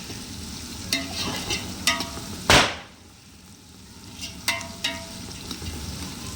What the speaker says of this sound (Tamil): ஃப்ரெண்ட்ஸ், வெங்காயம் நல்லா வணங்கட்டும்.